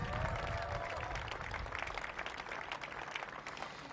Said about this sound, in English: Give DC government a big round of applause